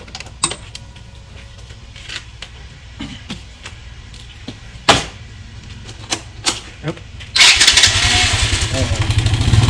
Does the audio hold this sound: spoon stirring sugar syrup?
no